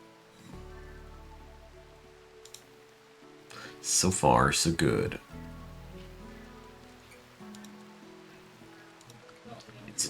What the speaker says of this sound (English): It's a dark, rainy night.